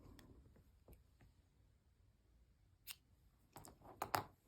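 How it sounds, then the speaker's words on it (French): Scissors cutting knitting yarn, a few faint snips and clicks in a quiet room, then a closer, sharper cluster of blade snaps near the end, with no talking. "Maintenant, on va couper le fil."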